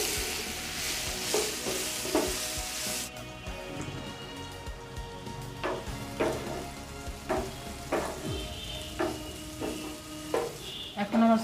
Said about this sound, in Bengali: একই তেলে আমি সয়াবিনগুলো একটু ভেজে নেব।